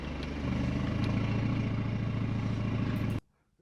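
A loud, steady Mercedes-AMG A45 S exhaust drone with a throaty low rumble as the exhaust valves open, running for about three seconds, then cutting off abruptly to near silence.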